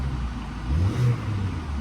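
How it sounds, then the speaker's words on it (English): Mercedes SL engine giving a short rev, a low rumbling idle that swells briefly around the middle and settles back, heard up close with no talk. "There it goes, little rev, and it's starting now."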